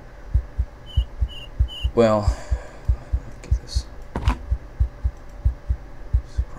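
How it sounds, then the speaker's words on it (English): Steady rhythmic heartbeat sound effect from the video game RuneScape, pulsing evenly throughout over game audio, with a brief spoken word and a couple of short interface sounds. "Right now you can hear the heartbeat"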